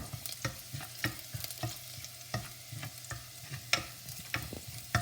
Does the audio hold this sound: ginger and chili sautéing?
yes